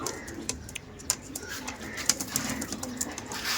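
Andhra pigeons coo nearby in soft repeated calls, joined by scattered chirps and a few sharp clicks over a faint background hum.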